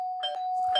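A doorbell rings indoors with a sustained electronic chime tone and a second bright ding near the end, loud and close, with no talking.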